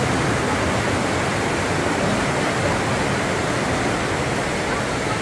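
The waterfall at Parc des Cascades in Rawdon gives a steady, loud, unbroken roar of rushing water that fills the whole short stretch, with no pauses or other distinct sounds.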